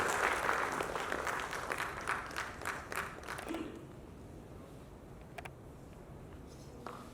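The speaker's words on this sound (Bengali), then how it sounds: "সবাই একটু হাততালি দিয়ে তাদের স্বাগত জানাচ্ছি।" Audience applause welcoming guests onto the stage at a prize distribution event, a dense clatter of many hands for the first three and a half seconds, then fading to scattered claps over room noise.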